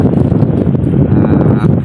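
Loud, gusty wind with rain buffets the microphone in a continuous low roar, rumbling and pulsing up close without letup, during lobster net fishing.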